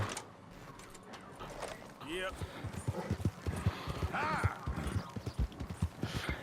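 Horse hooves clip-clop steadily in Red Dead Redemption 2, a regular rhythmic beat that grows louder, with a brief whinny early on and someone talking over the hoofbeats.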